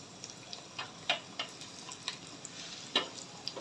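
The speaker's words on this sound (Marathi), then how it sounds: "तळून घेऊया आपण सगळ्यात आधी तीन चार मिनिटं लागतात मीडियम फ्लेमवर लालसर कलर घ्यायला लसणाला" Light crackling and sizzling of garlic frying in oil over a medium flame, with scattered sharp pops and clicks over a steady hiss, fairly quiet and close.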